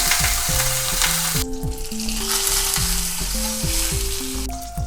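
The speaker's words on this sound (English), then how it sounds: "First thing we're going to do is brown our pork belly." A single large chunk of pork belly browning in a pot, a loud, dense sizzle close up and continuous, while background music with a plucked melody plays underneath.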